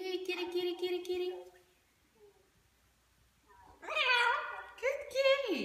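A severe macaw imitates a cat with a pair of drawn-out, rising-and-falling meows, following a person's high-pitched coaxing voice and a short pause.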